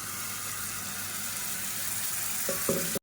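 Onions for thokku sauté and sizzle in a hot pan, a steady broadband frying hiss running throughout with a couple of brief stirring scrapes near the end; no talking.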